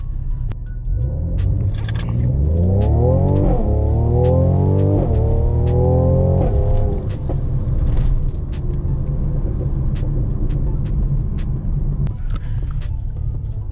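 A car with a Renntech tune launches off a brake boost and accelerates hard, its engine pitch climbing through several gear changes before settling into a steady cruising drone under road rumble.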